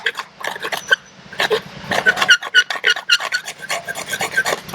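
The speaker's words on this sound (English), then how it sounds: "and just scrape a bunch of scrapings down in here to it." Bushcraft knife scraping fine wood shavings for bow drill tinder, a close, steady run of short raspy strokes in uneven rhythm, alone without talk.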